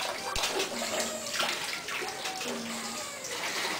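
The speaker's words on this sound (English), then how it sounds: "the water will be pumped to an elevated container" Homemade water pump made from drinking-water-safe materials pushes filtered water toward an elevated container, giving a steady, continuous rush and splash of flowing water at close range with faint tonal hums.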